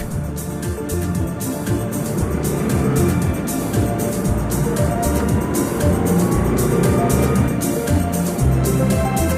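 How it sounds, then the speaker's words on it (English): Busy street traffic in a small Mekong Delta city in Vietnam, a dense continuous rumble of engines with horns and passing vehicles, steady and close throughout. "Even in the small cities of the delta, there's a large amount of traffic."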